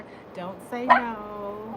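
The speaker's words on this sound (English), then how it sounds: "See, that's my dog." A pet dog gives a couple of short yips and whiny barks close by, overlapping a voice.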